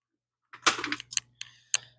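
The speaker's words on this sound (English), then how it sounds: "So I'm going to cut this away." Cutters snip through plastic split loom wrapped around wires near a vehicle inverter: a few close, sharp clicks and crunches in quick succession, alone with no talk.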